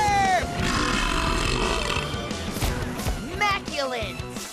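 A cartoon character lets out a big, rumbling thunder burp, long and gurgling, with excited animated voices over and around it.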